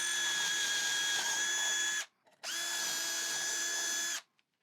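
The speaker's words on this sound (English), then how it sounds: "I've installed the 5mm drill bit in my drill, and I can pre-drill the holes." An electric drill with a 5mm bit whines at a steady high pitch in two long bursts, pre-drilling holes in wood, stopping briefly between them, loud and close.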